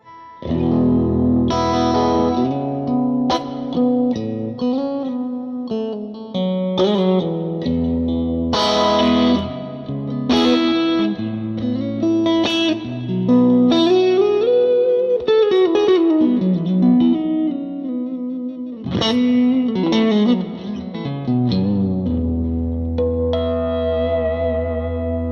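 Electric guitar played through a Fractal amp modeler with heavy reverb, ringing melodic notes and chords that blur into long washing tails, loud and continuous with no voice.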